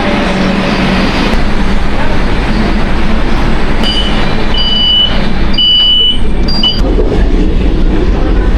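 A Kolkata Blue Line metro train runs between Noapara and Dakshineswar, heard from inside as a loud, continuous rumble of wheels and motors with a faint high whine and brief tonal beeps partway through.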